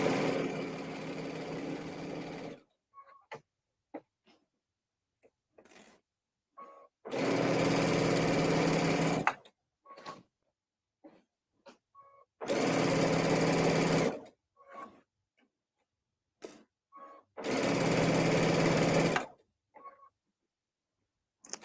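Sewing machine stitching a bench pillow, loud close whirring in four bursts of about two to three seconds each, separated by quiet pauses with small clicks and handling sounds.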